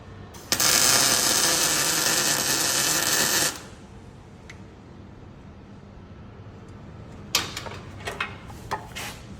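A welder fusing a nut onto a broken exhaust manifold stud gives one loud, steady crackling hiss lasting about three seconds, followed by quiet and a few sharp clinks and taps of metal tools.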